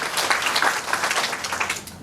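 Church congregation clapping in praise, a brief, moderately loud patter of many hands with scattered sharper claps.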